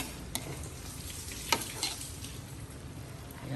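Tofu stir-fried in a pan, giving a steady close sizzle with a few sharp clicks from stirring, and no voices.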